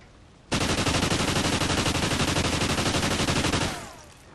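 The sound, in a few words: SMG hip fire gunshots in Call of Duty: Ghosts video game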